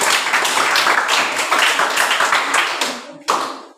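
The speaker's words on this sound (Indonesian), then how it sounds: "Mari kita berikan aplaus yang meriah buat mereka." A room of people clapping for group 2 in a classroom or hall, a loud, close burst of dense hand claps that keeps going for several seconds and then tapers off, with a sharp final clap at the end.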